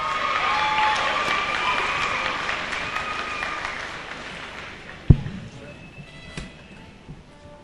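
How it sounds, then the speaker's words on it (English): Audience applause in a hall at a Scór na nÓg All Ireland final in 2001, following a jig and reel performance, a broad steady clatter of clapping that slowly fades, with a sharp knock near the end. "can we have a big round of applause for them"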